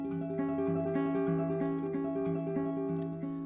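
Guitar playing a repeated chord pattern from a song, with plucked strings in a steady picked rhythm, close and clear with no talking.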